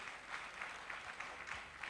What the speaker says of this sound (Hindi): एक जोरदार तालियां बजाइए,